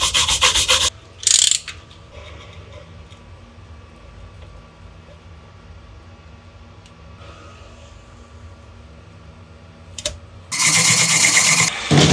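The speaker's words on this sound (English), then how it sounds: "So we're just going to give it a proper scrub." Steady brushing scrubs an Antminer L3+ crypto-mining board soaked in alcohol, a continuous rough rubbing with louder bursts of harsh bristle scraping near the start and the end.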